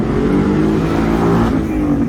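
Loud, sustained engine roar of cars revving hard as they leave a Houston car meet, a dense, continuous rumble with no let-up throughout.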